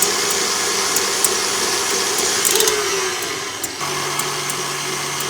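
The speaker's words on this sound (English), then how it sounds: "We're going to let this whip up until it's frothy." An electric mixer whips egg whites with cream of tartar until frothy for French macarons, giving a loud, steady whirring drone that shifts to a slightly lower, more even hum partway through, with no voices.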